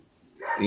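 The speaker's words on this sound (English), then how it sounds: "Apologies for the dog in the background there." A dog barks briefly in the background, one short burst rising near the end, moderately loud and slightly distant.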